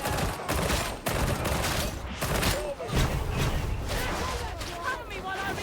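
Heavy gunfire in the video game Darktide, dense continuous bursts and booms filling the whole stretch with a few brief dips, loud and busy, with voices mixed in.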